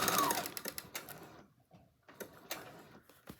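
A sewing machine stitches a straight line across a black-and-white journal cover, a fast rattling burst of needle strokes that stops, then resumes in short clattering runs with pauses, close and clear without talk.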